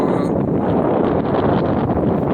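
Strong outdoor wind buffets the microphone at a camp, a loud continuous roaring rumble with gusty fluctuations throughout.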